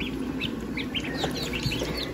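Baby chicks newly hatched in an incubator at home, peeping in quick high chirps that overlap steadily and sound close, with a faint background hum and no talking.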